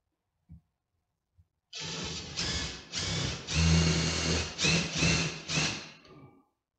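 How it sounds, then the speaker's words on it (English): A power drill drives screws into a garage wall mount for a motorcycle tour pack, running in about six sustained bursts with short pauses, close and fairly loud, after two small knocks. "Put a couple more screws in here, make sure she's nice and secure."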